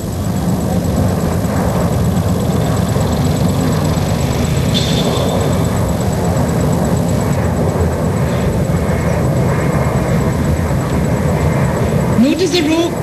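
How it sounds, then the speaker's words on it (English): An Ilyushin IL-76 military transport with its rear ramp open flies toward the listener at about 300 km/h during an air force display, a continuous loud turbofan drone and rumble under a talking voice, with a rising whine near the end. "You can now see the IL-76 flying towards us."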